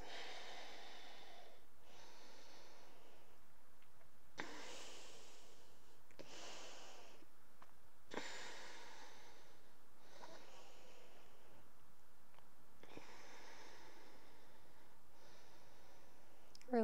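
Slow, deep breathing during a yoga flow, a series of soft, airy inhales and exhales in a steady rhythm, quiet and close with no talk.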